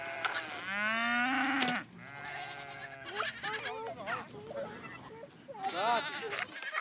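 Goats and sheep in a Mongolian nomad herd bleat loudly and close by, with several overlapping wavering calls from different animals over a quiet background of movement.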